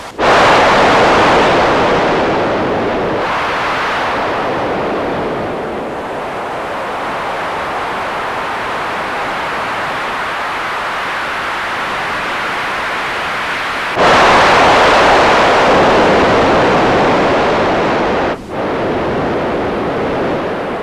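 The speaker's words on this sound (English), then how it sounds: "Engage a little bit of thunder." Deep thunder synthesized on a DSI Pro 2 synthesizer rumbles in long swelling rolls over a constant noisy rain wash, with a fresh loud surge partway through.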